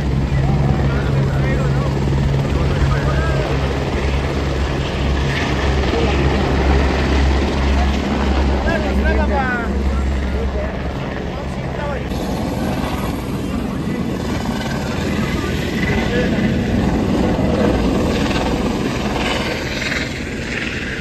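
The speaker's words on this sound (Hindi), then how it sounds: "शॉपर है, हेलीकॉप्टर है।" Loud, steady helicopter rotor thumping and engine roar fill the whole stretch, close by, with some voices faintly mixed underneath.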